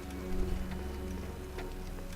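A clock ticks in the Back to the Future video game, a steady soft tick-tock under a low musical drone, with no voices.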